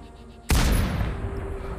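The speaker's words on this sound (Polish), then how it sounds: "bierzemy powietrze, wstrzymujemy i idzie strzał" A single sniper rifle shot in the video game Sniper Ghost Warrior Contracts 2 cracks out sharply after a quiet lead-in, then a long rumbling tail fades away.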